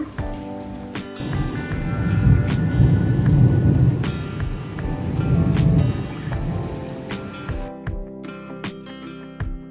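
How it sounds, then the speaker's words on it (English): Rain falls steadily on a rainy day, a dense continuous wash that swells and eases, with faint tonal background sounds and no speech. "It is finally raining"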